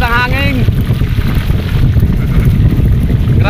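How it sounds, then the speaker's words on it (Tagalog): Strong, gusting wind buffets the microphone outdoors near water, a continuous loud low rumble throughout, with a voice briefly audible at the start. "Sobrang lakas ng hangin."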